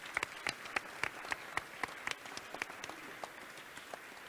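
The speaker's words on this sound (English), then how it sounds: "please join me in applauding the panelists for their intervention" A conference audience at an open data session applauds the panelists: sparse, distinct claps from a modest room, fairly faint and thinning toward the end.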